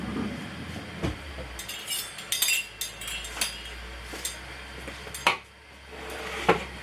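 A baking pan set down on the stove for cooking stuffed plantains, with a few clinking metallic knocks and clatters spread across the clip over a low steady hum.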